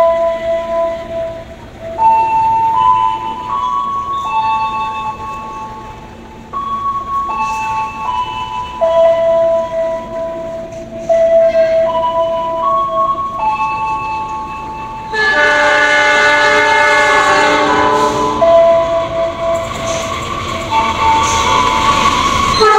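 Argo Dwi Pangga passenger train running straight through Tambun station without stopping, its horn sounding in long sustained blasts, with the roar and rumble of the passing cars swelling loud near the end.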